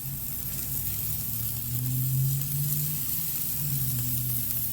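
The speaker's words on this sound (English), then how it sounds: "Going to let those sizzle for a little bit." Venison smash burger patties sizzle and crackle steadily on a hot griddle, a constant hiss close by with a low hum underneath and no voices.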